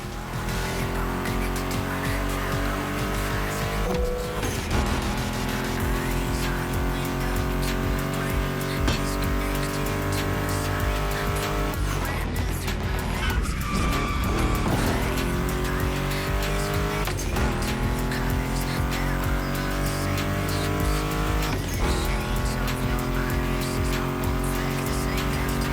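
Mustang GT muscle car engines roar continuously in The Crew Motorfest racing game, loud and sustained, with revving pitch climbs and gear-shift drops, tire squeals and skids, and no voices over it.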